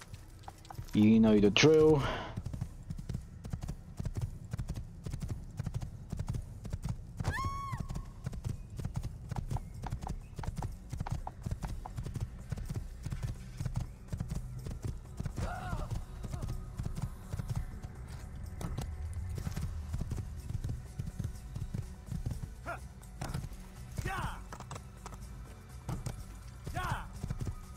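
Horse hooves clip-clopping steadily through most of the stretch in the game Assassin's Creed, with a whinny at the start, a few brief calls later and someone speaking briefly near the beginning.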